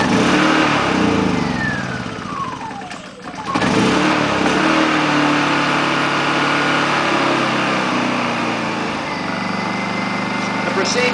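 A Honda EU2000i portable inverter generator engine revs and throttles down, a steady mid-pitched drone with a brief dip partway through, heard close over continuous background noise.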